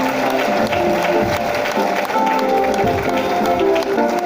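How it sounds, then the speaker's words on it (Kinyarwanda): A congregation claps throughout a night revival church service: a dense, loud, steady wash of applause with faint voices mixed in. "Amashyi ku Mana yacu."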